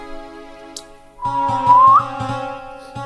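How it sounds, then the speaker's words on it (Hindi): A man whistles a short rising note, heard over steady sustained harmonium-like tones and a repeating low rhythmic beat during an evening ashram satsang. "सीटी तो मैं ऐसे ही मजाक में बजा रहा"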